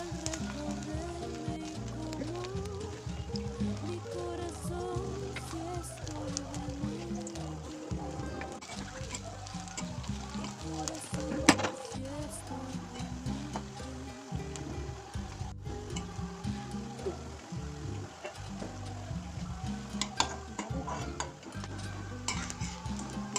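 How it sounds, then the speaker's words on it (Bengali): Mustard flower fritters (bora) deep-frying in hot oil, a steady dense sizzle with occasional stirring and utensil clinks running throughout, close and continuous with no talk. "এখন বড়া ভাজবো, চপের মতো করে আমি বড়া ভাজবো,"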